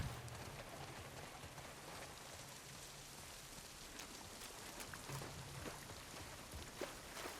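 Steady rain patters across surfaces throughout in the video game The Last of Us Part II, a soft continuous hiss with scattered drips and a low hum underneath, no voices.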